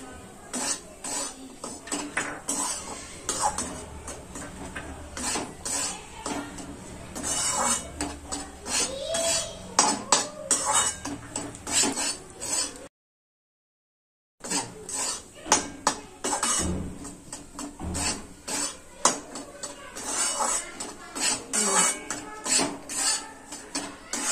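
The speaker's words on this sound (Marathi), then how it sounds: "आता आपण ह्या राजगिरा पिठामध्येच आपण काजू आणि बदाम भाजून घेऊया।" Cashews and almonds are dry-roasted in rajgira flour in a pan, heard as repeated metallic scraping and clinking of a spatula against the pan, irregular and fairly close. A brief silent gap falls in the middle.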